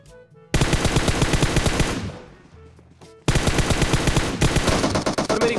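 Rapid bursts of automatic gunfire in PUBG on the Amusement Park map, loud and close, with a brief pause before another sustained volley; no talking.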